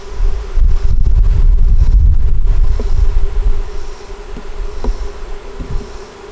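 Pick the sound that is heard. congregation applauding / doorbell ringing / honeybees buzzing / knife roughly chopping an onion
honeybees buzzing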